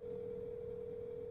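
Steady single-pitch telephone dial tone inside the Roblox video game, holding unbroken and fairly quiet with a faint low rumble underneath and no speech.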